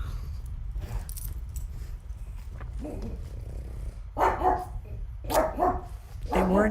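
Pugs let out several short barks in bursts, loud and close, with a rustle of other noise between them.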